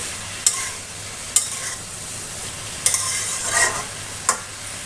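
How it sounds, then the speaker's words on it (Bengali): Spices and vegetables fry over a high flame in a pan for a chicken and jackfruit curry, a steady close sizzle broken by a few sharp scrapes and clacks of the stirring spoon, with no talking. "হাই ফ্লেমে রেখে মশলা এবং সবজি ভালো করে কষিয়ে নেব"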